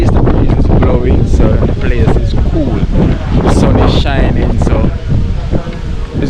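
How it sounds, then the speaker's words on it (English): Strong wind buffets the microphone on a very windy day in Churchtown, a loud, steady roaring rush with gusts, while a voice talks faintly underneath. "you're probably hearing a lot of wind right now"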